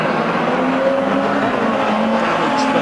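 Pre-1975 classic race cars at Kings Lynn roar past in a dense, loud blur of engine noise. Several machines sound at once in a continuous drone, with faint tire noise underneath.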